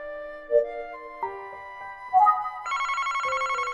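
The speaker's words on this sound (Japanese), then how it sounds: "ん？ 電話だ。" A telephone rings in the Famicom Detective Club video game, starting with a few chiming tones and then turning into a rapid, steady electronic trill that comes in clearly with nothing else around it.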